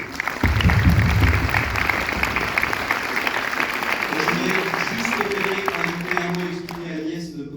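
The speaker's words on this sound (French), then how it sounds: "Sarah Chazelle, on peut l'applaudir." An audience applauds a film distributor at a cinema premiere, steady dense clapping throughout, with voices and chatter rising underneath in the second half.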